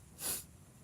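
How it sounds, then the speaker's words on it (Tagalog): A single short, breathy sniff from someone with a cold, close and fairly quiet, lasting under half a second. "Naririnig ba singhot ko?"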